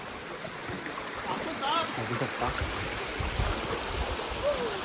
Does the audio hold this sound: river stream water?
yes